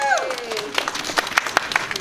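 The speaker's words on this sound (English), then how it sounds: "give them both a round of applause for all that they did" An audience at a community Chanukah celebration breaks into applause, a dense patter of clapping that builds after a brief voice and fills the short moment at close range.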